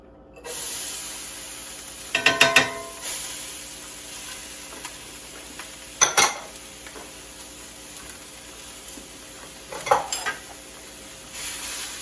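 Corn and squash fry with a steady soft sizzle in a skillet while a utensil clatters against the pan in short stirring bursts at intervals. No voices are heard.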